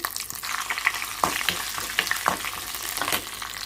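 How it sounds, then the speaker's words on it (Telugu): Hot oil crackles and sizzles loudly and continuously up close, with frequent sharp pops and spatters as cumin, dried red chillies and garlic cloves fry. "పోపు వేగిపోయింది కాబట్టి పచ్చడి వేసిస్తున్నానండి"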